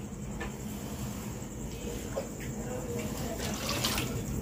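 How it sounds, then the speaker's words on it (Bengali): Water pours into a cooking pan in a home kitchen, making a steady splashing wash that swells near the end, with faint background noise throughout. "আর একটু পানি দাও দরকার হ্যাঁ আর একটু দাও"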